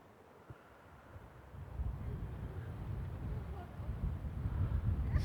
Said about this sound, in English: It's very, very windy.